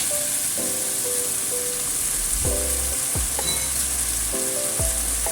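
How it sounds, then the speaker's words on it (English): Lamb burger filling stir-fried in a wok with liquid potato starch, a loud constant sizzle broken by several metallic clangs and scrapes of the spatula, close by with no voices. "Stir fry everything."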